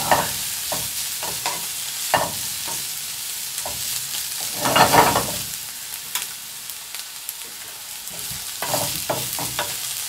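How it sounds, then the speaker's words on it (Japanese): Fushimi peppers cook slowly in a pan over low heat, with a steady, close sizzle and frying crackle broken by repeated scraping and stirring strokes. "弱火でじっくりじっくり火を入れていきます。"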